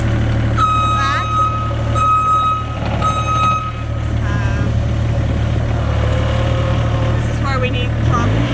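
Manitou 1050RT Posi Track telehandler with its engine idling loudly nearby while reversing beeps sound in short repeated bursts, a few brief hydraulic squeaks along the way.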